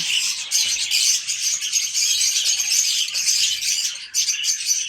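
Many small birds chirp continuously in a dense, high-pitched chatter, close by, with brief rustling underneath.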